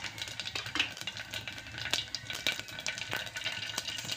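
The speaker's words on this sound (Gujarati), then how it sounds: "સરસ મજાનો વઘાર થાય છે" Mustard seeds, cumin and fenugreek powder crackle and sizzle in hot oil for a tomato curry tempering, a steady close frying hiss broken by sharp pops and occasional stirring clinks.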